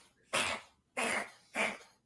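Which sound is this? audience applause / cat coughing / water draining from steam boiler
cat coughing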